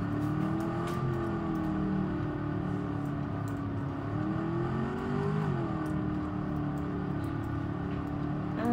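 A car engine in Roblox Taxi Boss hums steadily, its pitch climbing and dipping as it revs up and eases off, close and loud with no voices over it.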